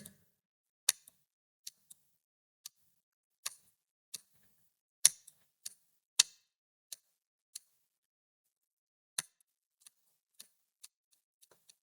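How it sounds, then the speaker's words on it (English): Sharp, small snips of fine-point scissors cutting craft material for a buzzbait fishing lure repeat irregularly, about twenty quick crisp clicks spaced apart against near silence. "now let's try to see if we can do this with the scissors"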